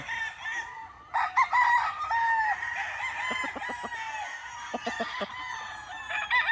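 Several Boston Roundhead gamecock roosters on a game farm crow in overlapping calls, one after another, with sharp clucking bursts in between; close and loud against a steady outdoor background.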